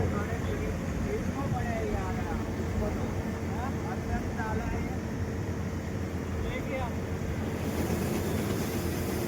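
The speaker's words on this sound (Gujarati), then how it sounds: "જો ચાલુ થઈ ગયું છે ટ્રેક્ટર ભરવાની" A rice harvester's engine rumbles loudly and continuously while it unloads paddy into a tractor trolley in the field, with voices and faint chirps over the mechanical drone.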